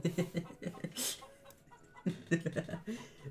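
A chicken clucks in the video game Dude Simulator, several short bursts in two clusters with a brief flutter between them, mid-level and partly overlapped by light talk.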